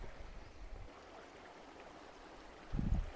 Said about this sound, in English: So this is the little creek right here.